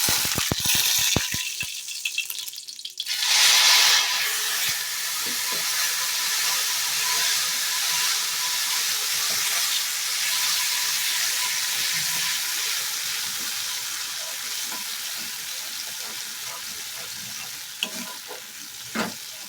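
A spice paste drops into hot oil for cauliflower rezala, setting off a sudden loud hiss that settles into a continuous sizzle, with a spoon stirring and scraping the pan close by.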